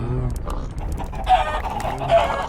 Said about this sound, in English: There's too many chickens there.